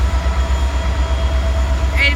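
An SD60 and a Tier 4 GEVO locomotive pull a train out of Waycross, Georgia, with a loud, deep diesel rumble throbbing steadily up close and a brief higher squeal near the end.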